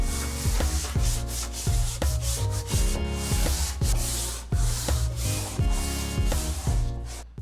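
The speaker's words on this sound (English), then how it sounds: "I'll quickly sand this one" Sanding a boat part gives a loud, continuous rasping scrub in quick back-and-forth strokes at a steady rhythm, close up with no voices.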